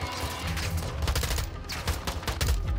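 Rapid gunfire from a first-person shooter battle in Modern Warfare 2, with dense automatic bursts and sharp shots firing continuously and loudly throughout.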